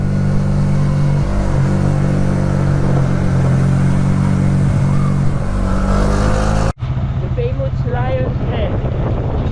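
A lowered Winner X motorcycle's engine drones continuously during a ride, mixed with heavy wind rush; after a brief cut, the engine continues with a voice speaking over it.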